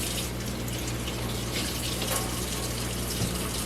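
Organic pears washed under a running kitchen tap, a constant close rush of flowing water with slight splashing changes as the fruit moves under the stream.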